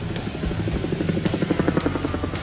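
A military helicopter flies close and loud, its rotor blades chopping in a fast steady pulse over a deep engine drone.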